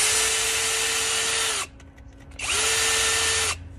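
A cheap power drill whirs loudly at steady speed in two bursts of roughly 1.6 and 1.1 seconds, separated by a short pause with faint clicks, close by with no talking.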